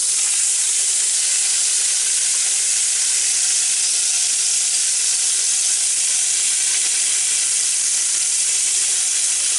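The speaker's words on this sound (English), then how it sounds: "get it all good and seared all the way around as much as you can" A pot roast searing in an Instant Pot, giving a steady bright sizzle and hiss of hot fat that runs unbroken and fairly loud the whole time, with no talking.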